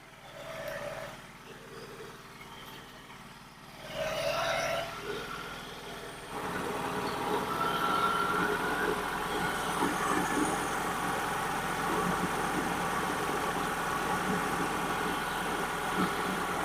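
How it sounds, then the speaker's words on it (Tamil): A Honda Activa scooter engine runs and idles steadily, quieter and uneven at first, then holding a louder, constant hum from about six seconds on, with no talk over it. "இன்ஜின் ஒரு 5 நிமிஷம் ஓட்டும்."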